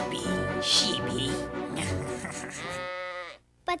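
A sheep bleats with a wavering, quavering cry among other voiced, tuneful sounds in a shepherd story scene, then a short burst near the end after a brief pause.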